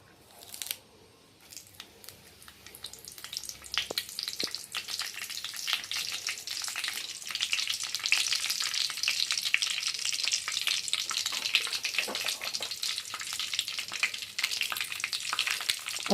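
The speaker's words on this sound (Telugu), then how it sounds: "ఆయిల్ హీట్ అయ్యాక పోపు దినుసులు వేసుకుందాం" Tempering spices drop into hot oil and burst into a loud, crackling sizzle that builds after a quiet start and a few clicks, then stays dense and steady to the end.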